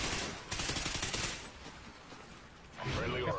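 Rapid automatic gunfire from the video game Call of Duty Ghosts, dense bursts of shots filling the first half and returning near the end, with a player's voice over the game audio.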